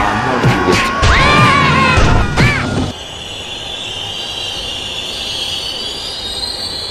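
A train rolls along the rails with loud metallic wheel squeals and screeches for a few seconds, then settles into a steady low rumble.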